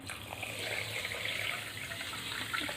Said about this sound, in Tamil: சர்க்கரை முங்குற அளவுக்கு தண்ணி ஊற்றிக்கலாங்க.